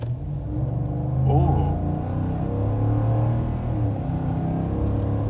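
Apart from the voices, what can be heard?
Ford F-150 5.0 V8 engine revving under throttle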